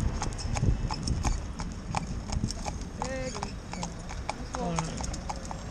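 A cob horse's hooves clip-clop steadily on a hard road in a regular rhythm, with someone talking over them and some traffic noise behind.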